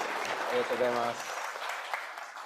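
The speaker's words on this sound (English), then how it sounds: "can we please give a warm round of applause to welcome Reverend Miyaji back to the Northwest District" Warm applause at a Buddhist temple seminar welcoming a returning reverend, a soft continuous patter of clapping with a voice speaking over the opening moment.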